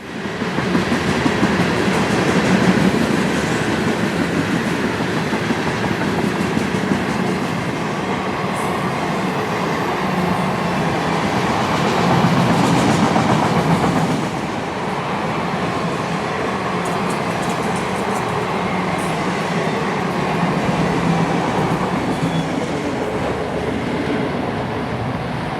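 CSX freight train IO-45 departing Duval yard in Florida at night; a continuous rumbling roll of wagons with rhythmic clatter, fairly loud and steady throughout, with no talking.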